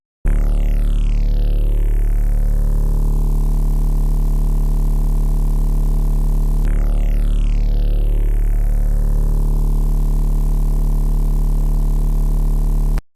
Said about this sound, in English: we have this bass from Serum.